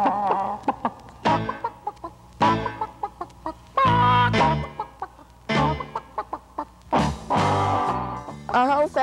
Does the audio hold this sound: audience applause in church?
no